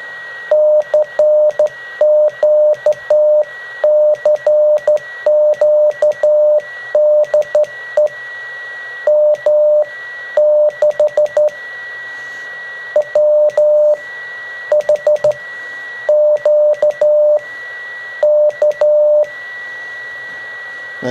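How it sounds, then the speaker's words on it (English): Morse code sidetone from a home-built Pixie 40-metre QRP CW transceiver keyed into a dummy load: a steady, clear beep tone switches on and off in dots and dashes over a faint background hiss, with no talking. "there you go, a bit of Morse, and it seems to be working"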